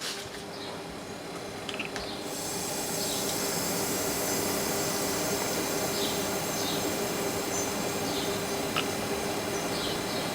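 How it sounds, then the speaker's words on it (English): A small-displacement compressor in a Fisher & Paykel bar fridge hums steadily, a low continuous mechanical drone that swells after the first couple of seconds and then holds even, close and alone. "It's a small displacement compressor, so it's going to drop slowly."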